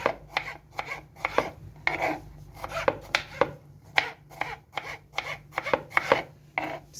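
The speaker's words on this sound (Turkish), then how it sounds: "Şu şekilde küp küp doğrayalım domatesimizi." A knife chops tomatoes into cubes rapidly on a cutting board, a quick steady series of sharp taps with faint scraping between strokes, close and clear.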